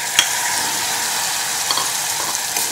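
Tomato and potato pieces frying in a pan for a Gujarati thali, giving a steady close sizzle with a few stirring scrapes and no talk.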